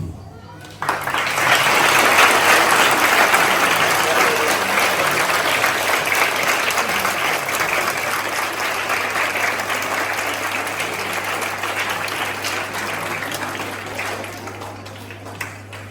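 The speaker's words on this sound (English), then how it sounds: "Let's give a clap." A crowd breaks into loud, sustained applause that continues for many seconds, slowly fading near the end, with a low hum underneath.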